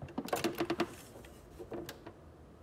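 A home sewing machine runs a short burst of rapid stitches and then a brief second burst as it backstitches at a fabric fold. Both bursts are quiet and close, with no talk over them.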